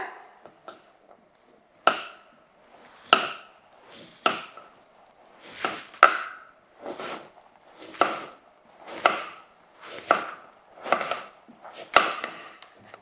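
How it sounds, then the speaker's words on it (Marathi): A knife slices peeled sweet potato on a board with about a dozen crisp, evenly spaced chops, loud and close, with no talking. "रताळ्याच्या साली काढून घेतल्यात आता आपण इथे काप कापून घेऊया"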